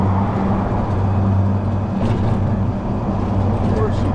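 A lifted golf cart drives along a road with a steady, close motor hum and road rumble throughout, while people talk over it.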